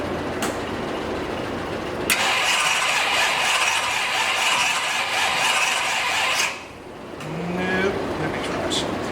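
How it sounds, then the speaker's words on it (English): A Ford 390 FE engine with triple deuce carburetors in a 1957 Ford 300 cranks loudly for about four seconds in a steady whirring grind, then stops, and a fainter mechanical whine follows. "Let's see if this thing cranks back up much better."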